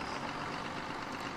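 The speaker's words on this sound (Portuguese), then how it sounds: "olha o ronco desse trator" Engine of a 6J 6205 tractor in Farming Simulator 2019 rumbles steadily and loudly at idle, a dense, even drone with no talk over it.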